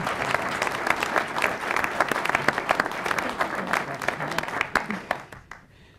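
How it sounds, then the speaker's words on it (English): A panel-discussion audience breaks into steady applause for several seconds, dense and close, before the clapping thins out and fades near the end. "You can applaud now."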